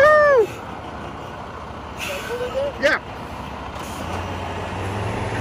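A large car transporter truck carrying a 2019 Mustang GT rolls in, with a sharp hiss of air brakes and short tonal squeals, then a low engine rumble building near the end; someone speaks briefly.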